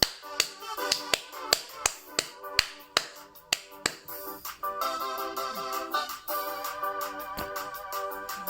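A church congregation claps hands in praise to God: crisp, evenly spaced claps ring out for about four seconds, then thicken into a busier, continuous stretch of clapping mixed with other sound.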